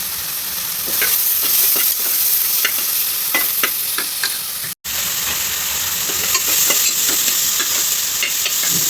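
Tomato and onion sautéing for mutton curry, a steady sizzle with frequent scraping stirs of a spoon in the pan. A very brief dropout breaks it midway.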